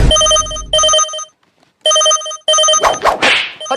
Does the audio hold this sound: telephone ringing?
yes